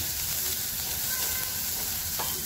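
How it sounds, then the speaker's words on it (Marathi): Carrots and capsicum fry in a pan, giving a steady, fairly quiet sizzle with constant hiss throughout and one brief scrape near the end, with no talking. "ह्याला पण एकच मिनटामध्ये मी फ्राय करणार आहे"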